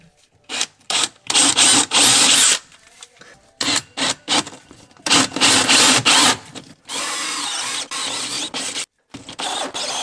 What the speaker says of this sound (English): I'm going to use a 2 3/8 hole saw